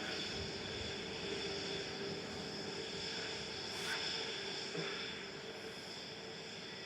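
EasyJet airliner taking off at Manchester Airport, a distant, faint steady engine roar heard over open-air background, with no talk.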